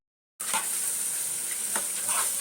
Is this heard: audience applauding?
no